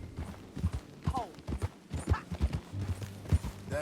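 Horse hooves clip-clop at a steady walking pace in the video game Red Dead Redemption 2, close and fairly loud, with a brief whinny-like voice and speech mixed in.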